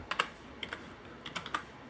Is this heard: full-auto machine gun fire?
no